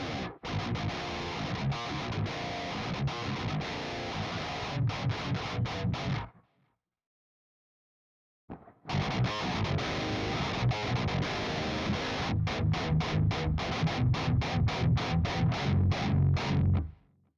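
Distorted electric guitar pitched down a whole step through a pitch shifter pedal, dense riffing for about six seconds, a short silence, then another loud passage ending in choppy, rhythmic palm-muted stabs.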